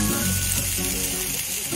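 Ginger paste being stirred and fried in a pan for sukto gives a steady close sizzle with faint scraping of stirring throughout, no speech over it.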